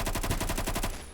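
A Bison gun fitted with a 9mm conversion fires in Phantom Forces: one rapid automatic burst of about ten sharp, evenly spaced shots, loud and close, cut off just before the end.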